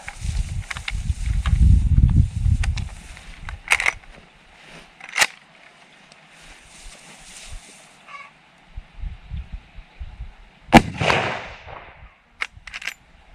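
Single sharp rifle shot from a 30-30 lever-action Remington Core-Lokt 170 grain load, fired outdoors at a target about 50 yards away, a loud crack with short ringing tail, followed by faint ambient noise and another distant report.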